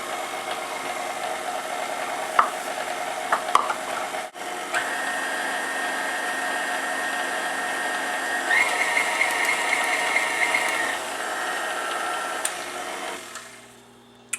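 Electric hand mixer whirring steadily through peanut butter banana bread batter, a continuous motor drone with faint rattles and a slight pitch rise midway, running alone and easing off toward the end.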